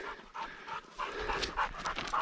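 A dog pants quickly and rhythmically close by on a hike toward a mountain lookout, short breathy puffs with no talking.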